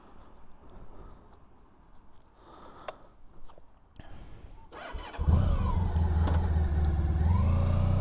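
A Honda ST1100 motorcycle sits quietly with faint handling noises, then about two-thirds of the way in its engine surges loud and close as the bike rides off and accelerates in a sustained rumble.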